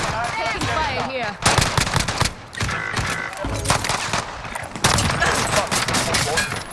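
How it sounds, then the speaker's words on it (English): Rapid automatic gunfire and mechanical clatter fill a multiplayer shooter game, with sustained bursts and fusillades throughout while players talk over voice chat. "Taking fire here."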